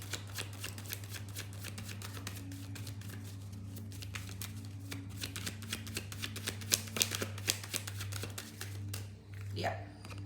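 Tarot cards being shuffled close by in a rapid crackling riffle of soft card snaps, with a low steady hum underneath and a voice talking over it.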